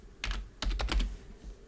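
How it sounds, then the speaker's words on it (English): Keys clatter on a computer keyboard during drafting work in a CAD tutorial, with a short burst of quick taps followed by a denser run of keystrokes, close and fairly crisp against a quiet room. "I can start typing"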